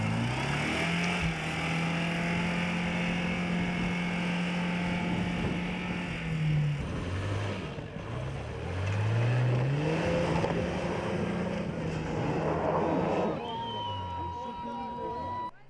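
Four-wheel-drive cars race on an off-road winter track, engines whining in rising and falling pitch sweeps as they accelerate and ease off, loud and continuous with a narrator talking over them throughout.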